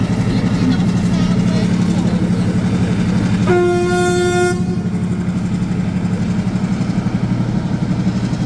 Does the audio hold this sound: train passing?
yes